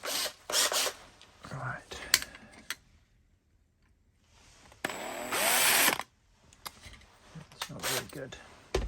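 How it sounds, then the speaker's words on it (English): Bursts of a small power drill whirring in short spurts as it drills out a die-cast Chevy Bel Air lowrider model, with a longer sustained run midway and brief pauses between, close by. "just drill it out."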